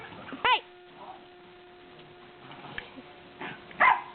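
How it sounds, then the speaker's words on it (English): Five-month-old puppies playing, with two sharp loud yelping barks near the start and end and softer whimpers and scuffles between them. "Then we have Maya, the crazy, energetic psycho dog that has a loud bark for a 5-month-old puppy."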